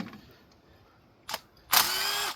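A ratchet works on the 8 mm cover bolts of a Polaris 500, with a faint click, a short mechanical burst, then a loud sustained whirring run close by.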